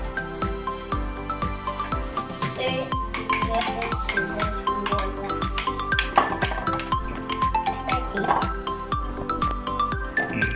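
Rhythmic clinking and scraping of a utensil stirring gummy bears and water inside a container, steady and close, continuing throughout.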